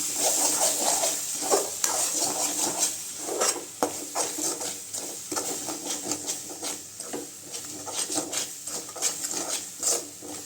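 Eggs are stirred in a pan for a Tamil egg poriyal, giving repeated close scraping strokes against the pan in a steady rhythm, with a faint high hiss underneath.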